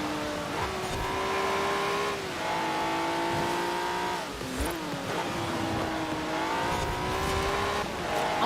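An all-wheel-drive Alfa Romeo 155 Q4 in the Forza Horizon 4 racing game is driven hard through corners, its engine note loud and steady, rising and dipping with gear changes, under brief tire squeal.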